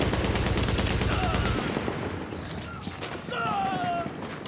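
Gunfire rattles in The Division's Dark Zone online play, a dense loud burst of automatic shots for the first second and a half, then thinner scattered shots and game ambience afterward.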